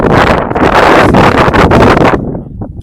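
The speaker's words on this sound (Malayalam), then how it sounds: "കാറ്റടിക്കുന്നു" Strong outdoor wind buffets the microphone while travelling, a loud, continuous roar of gusts that eases off sharply in the last half second.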